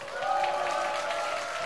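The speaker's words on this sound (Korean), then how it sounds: "자, 박수 한번 주세요." Applause from the audience at a K-pop comeback showcase, a brief, fairly quiet and steady patter of clapping, with a tonal hum running underneath.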